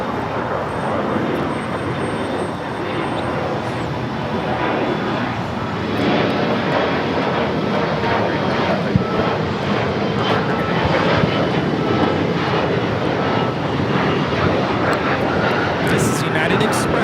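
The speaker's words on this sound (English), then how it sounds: "United Express 5310 taking off to Monterey on the E175." A United Express Embraer E175 regional jet takes off from Los Angeles International Airport, a broad, steady engine roar that builds slightly and holds throughout, heard from a distance with voices speaking over it.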